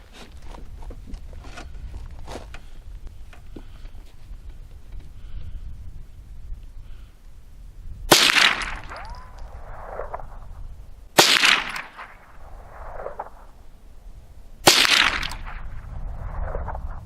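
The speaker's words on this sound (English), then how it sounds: "let's fire 5 rounds, 50 yards" Three sharp .22 rimfire shots of CCI Uppercut ammunition ring out a few seconds apart at an outdoor range, each a crisp crack with a short echoing tail, above quiet ambient rustle.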